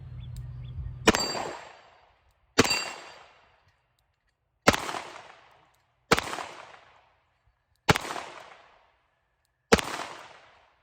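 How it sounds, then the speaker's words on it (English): A Smith & Wesson Model 19-4 .357 revolver firing Tula ammunition, six loud, sharp shots spaced about one to two seconds apart, each with a decaying echo tail. "We'll shoot 6 more of these Tula and see how it does."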